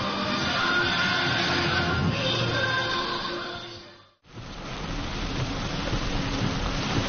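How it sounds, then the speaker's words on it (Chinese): A sudden heavy downpour roars as a dense, constant hiss of rain, loud and close, briefly cutting out for a moment before continuing just as strong. "迎着一场突如其来的大雨"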